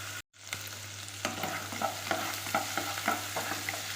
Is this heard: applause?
no